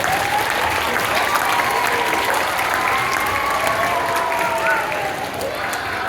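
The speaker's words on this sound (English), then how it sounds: "let's give them a round of applause for putting on the show today." A theatre audience at the Admiral Theatre in Bremerton claps in steady, dense applause after a school-day musical performance, loud and continuous before easing slightly at the end.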